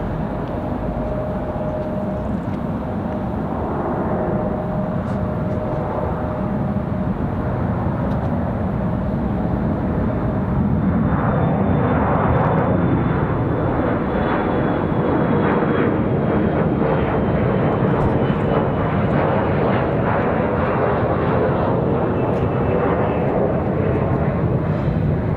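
A Republic Airways jet takes off on runway 23 left at Raleigh-Durham International Airport, its engines roaring loudly and steadily for the whole stretch as the sound builds and sweeps past.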